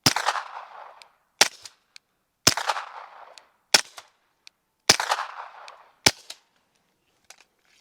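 Suppressed gunshots, same round alternating between supersonic and subsonic speeds, fired one at a time outdoors: six sharp loud reports spaced about a second apart, each trailing a brief decaying echo, with no talk.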